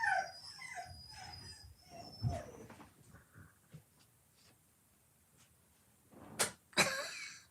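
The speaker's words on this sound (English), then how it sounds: "I don't know what the dogs were just doing." Dogs make a few scattered noises indoors, with soft whimper-like sounds and brief sharp yelps or scrabbles near the end, fairly close but fairly faint overall and with no speech.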